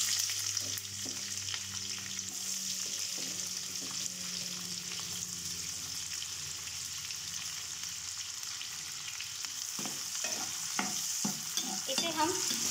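Chopped onions fry lightly in a pan for a broccoli potato curry, giving a soft, steady sizzle at moderate distance. Faint stirring scrapes come through, getting a little busier near the end.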